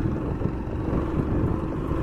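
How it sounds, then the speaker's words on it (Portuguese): A small motorbike engine runs on a dirt path to a hidden waterfall, giving a steady low rumbling drone throughout the short stretch with no talk. "Motinha bruta aqui"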